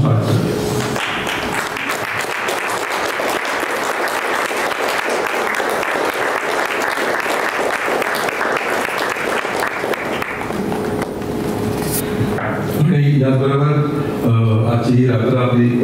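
Sustained, dense applause fills a hall at a Marathi book lovers' gathering in Karad, a standing ovation for the poets and musicians that rolls on for about twelve seconds before music rises near the end.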